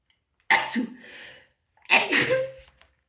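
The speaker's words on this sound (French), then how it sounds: "Ouh, je vais éternuer, pardon." Two sneezes in a row, close and loud, each a sharp burst followed by a breathy trail.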